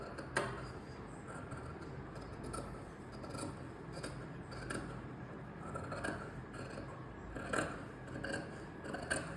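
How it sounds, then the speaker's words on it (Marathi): Scissors snip through extra fabric on a round-collar co-ord set during stitching, a soft, steady run of close, faint crisp cuts and rubbing without talk. "तिथे एक्स्ट्राचं जे फॅब्रिक आहे ते कट करायचं आहे."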